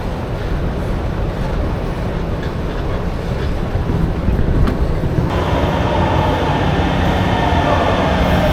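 Underground train in Malaga heard as a loud, steady low rumble and roar of wheels and motors, close and continuous, growing slightly in strength toward the end.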